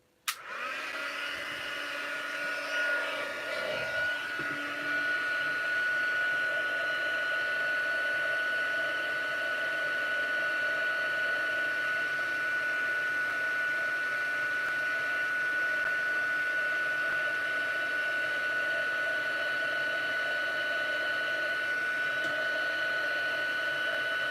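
A heat tool blowing continuously to heat-set stamping work in a papercraft session: a steady, loud whirring whoosh with a high whine that starts abruptly and runs unbroken close by.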